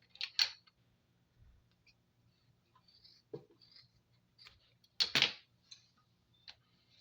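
Scissors snip the ends of a bracelet's cords, with a few short, quiet clicks and crisp cuts scattered across an otherwise hushed room, the sharpest pair near the end.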